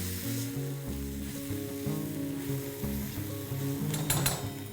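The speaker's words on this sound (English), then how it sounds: "Just let's saute this till the raw smell of the ginger garlic is gone." Ginger and garlic paste sautéing in a pan, a steady close sizzle with occasional stirring scrapes and a brief louder burst of frying near the end.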